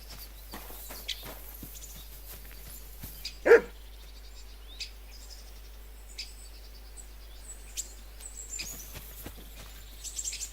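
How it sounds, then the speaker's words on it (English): A dog in the medieval village world of Kingdom Come: Deliverance II gives a single sharp bark partway through, set against quiet ambience with faint footsteps and scattered distant sounds. "Barking."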